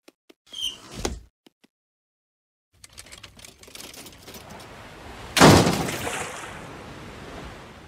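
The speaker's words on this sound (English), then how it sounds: "Can you open the sliding door?" A sliding door rolls open in a cartoon house that slants toward a cliff: a loud, brief rushing slide that tails off into a softer rumble, following a few scattered small knocks and a quiet pause.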